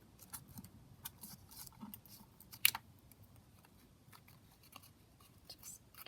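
Scissors cutting paper while trimming paper flower clips for a junk journal, heard as quiet, close snips with a sharper click midway, scattered through a faint background.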